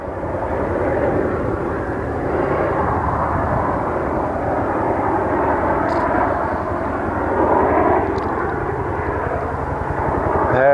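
A British Army helicopter takes off nearby, its loud engine and rotor roar holding steady and swelling toward the end.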